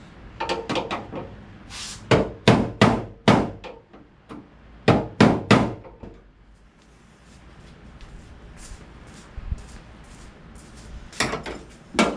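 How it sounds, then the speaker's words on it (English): A hammer taps on sheet metal during a backup camera install on a Nissan Frontier, flattening it for a nut: bursts of sharp, close metallic knocks in quick clusters, a quiet pause with faint handling, then a few more taps. "I'm gonna give it a little tap to flatten the sheet metal out so that the nut can go on it"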